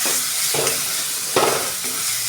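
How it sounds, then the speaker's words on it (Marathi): A ground paste of coconut, garlic and ginger roasts in a pan over a high gas flame, sizzling steadily while a spatula scrapes and stirs in a few distinct strokes. "आता हे चांगलं आपल्याला भाजून घ्यायचं एक दोन मिनटापर्यंत मोठाच गॅस ठेवायचा"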